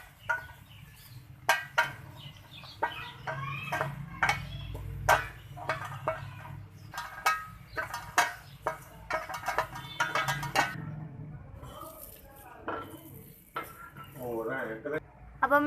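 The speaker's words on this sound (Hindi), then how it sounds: "अब पुदीने को हल्की आंच पे हम रोस्ट करेंगे।" Mint roasting in a saucepan over low heat for homemade chaat masala, with a utensil clinking and scraping against the pan in steady, close strokes and a voice coming in now and then.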